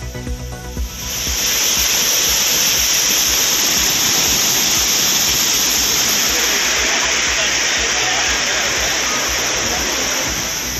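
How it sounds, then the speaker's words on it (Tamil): Floodwater roars over the Courtallam waterfalls after fresh rain, a dense, loud, constant rushing of water that swells in within the first second and then holds steady, heard up close with no talking. "குற்றால அருவிகளில் மீண்டும் ஆர்ப்பரிக்கும் வெள்ளம்"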